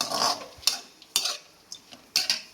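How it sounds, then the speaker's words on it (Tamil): Chicken chukka with crushed ginger and two dried red chillies is stirred in a pan, a faint sizzle broken by four or five sharp spoon scrapes and knocks against the pan, close and without speech. "அதுக்கப்புறமா 2 வரமிளகா போட்டுக்கிறோம். போட்டுக்கிட்டு நல்லா கிண்டி விடணும்."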